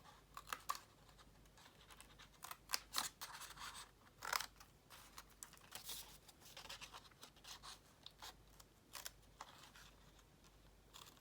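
Scissors trimming printed digital paper pages for a handmade collage book, a quiet series of close, uneven snips and paper scrapes in short bursts, with no talking.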